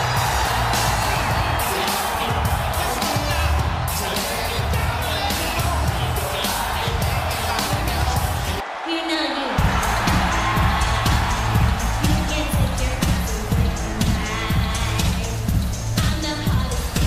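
A wrestling arena crowd roars and cheers steadily for a women's match, a dense loud wall of voices broken by one brief drop before surging back.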